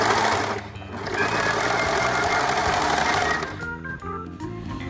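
A sewing machine stitching fabric for a baby Star Trek costume, a loud steady mechanical whir with a brief dip early on, running continuously and close up without any voices.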